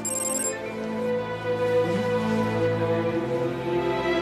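A phone ringtone for an incoming call plays in a drama scene, a steady melodic tone sustained under soft background music, fairly close and clear, with no talking.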